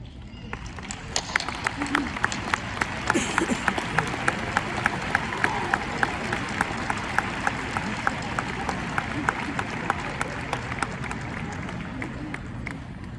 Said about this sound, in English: Classmates, please stand and give a huge round of applause to our biggest supporters.